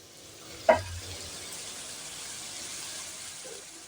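Kashmiri chili powder and green chilies frying in a pan, heard as a steady soft sizzle throughout, with one sharp clink of a spoon against the pan near the start.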